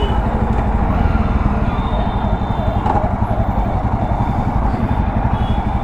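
Jawa Perak bobber motorcycle engine under engine braking, a steady loud low rumble with pulsing exhaust beats close by, continuous throughout with wind noise.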